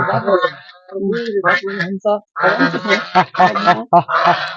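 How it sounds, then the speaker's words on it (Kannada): Geese honk in a loud, close run of harsh, nasal calls with short gaps between them, rising and falling throughout. "ಏನಿ ಒದರ್ತಾವಲ್ಲ ಕೊರಕೊರ ಅಂತ"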